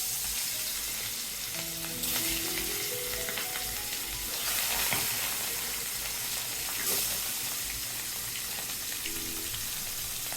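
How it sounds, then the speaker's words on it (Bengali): Pieces of rohu fish fry in oil in a pan, giving a steady hiss and crackle of sizzling throughout, with faint clinks from stirring. "আমি মাছগুলো ভেজে নিচ্ছি।"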